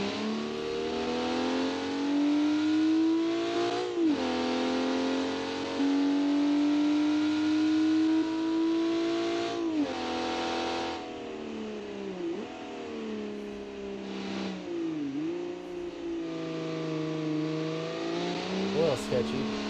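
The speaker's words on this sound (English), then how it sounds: "The Supercar. It's probably nice and loud." Supercar engine in BeamNG revving loudly with rising and falling pitch sweeps, a steady roar throughout with brief gear-change dips, heard under someone talking.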